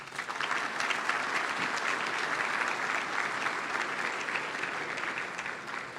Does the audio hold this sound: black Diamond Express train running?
no